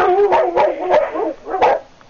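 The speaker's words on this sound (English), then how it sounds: "That's my inside pack barking at my son who just came through the door." Several dogs of an indoor pack barking inside a house, a quick run of loud, close, overlapping barks with brief pauses between bursts.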